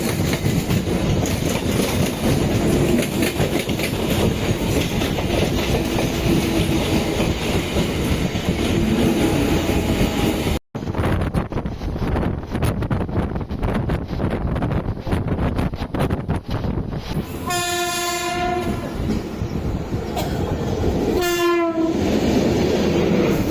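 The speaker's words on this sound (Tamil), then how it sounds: "இது பார்த்தீங்கன்னா அந்த ஃபாஸ்ட் ட்ரெயின் லெஃப்ட்டில் வர்றது." A fast suburban train on the Chennai line roars past close by, with wheel rumble and clickety-clack, then sounds a loud horn in two distinct blasts near the end.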